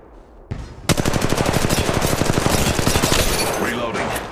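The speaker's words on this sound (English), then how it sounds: "Getting shot at." Rapid automatic gunfire from the mobile battle royale game Apex Legends Mobile: a dense, steady stream of loud, close shots that runs for several seconds after a brief opening burst, with no talking.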